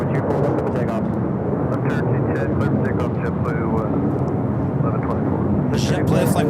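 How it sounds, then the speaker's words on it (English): A Delta Airlines Boeing 737-800 jet arrives at LAX, its broad engine roar steady and loud throughout, while a voice talks over it. "Arriving with Delta Airlines Flight 634 coming up from Detroit, Michigan, a 737"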